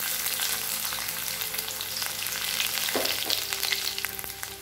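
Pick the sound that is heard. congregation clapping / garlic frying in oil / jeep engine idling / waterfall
garlic frying in oil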